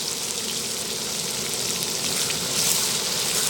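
Chopped big onion and garlic frying in oil in a pan for a Trichy wedding-style vathal kulambu, giving a steady, dense, close sizzle that holds throughout and swells slightly near the end, with no talking.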